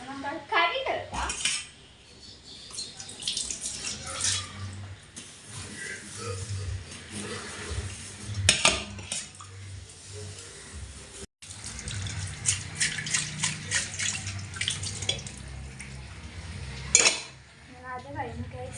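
Dishes and cutlery being washed in a kitchen sink after tea, with clinking utensils, clattering pots and plates and running tap water continuing throughout, fairly close and steady with brief pauses.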